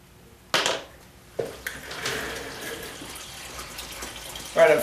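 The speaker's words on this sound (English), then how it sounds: "I'm filling my hot liquor tank up" Running water fills a hot liquor tank for home brewing, a soft steady rush in the background after a couple of sharper knocks. A splashy burst comes near the end.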